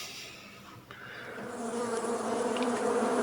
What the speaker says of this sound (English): And then we heard some buzzing.